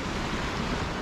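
Waves wash steadily against a rocky seashore, a dense broadband roar, close and continuous with no voices.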